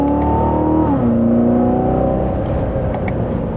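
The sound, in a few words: Chevrolet Corvette C7 Z06 accelerating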